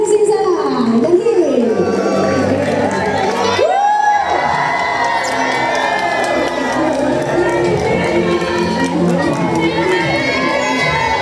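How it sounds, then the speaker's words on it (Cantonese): Loud crowd cheering, whooping and applause from an audience at an outdoor stage show in a Sha Tin shopping centre, Hong Kong, sustained throughout with shouts rising above the roar and voices mixed in. "俾多啲熱烈嘅掌聲嚇"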